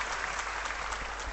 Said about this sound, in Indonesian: Beri tepuk tangan untuk Sonora Group.